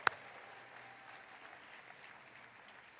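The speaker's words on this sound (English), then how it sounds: "let's give a big round of applause for Ronna McDaniel." An audience at a Republican national convention in Charlotte applauds. One sharp sound opens the stretch, then the clapping stays faint, distant and steady.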